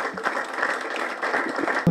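Steady audience applause fills a welcome ceremony for a VIP program signing, a dense even wash of clapping lasting about two seconds with no break.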